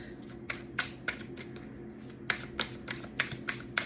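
Tarot cards shuffled by hand in a quiet room, a series of crisp riffling bursts in irregular rhythm, close and clear with no talking.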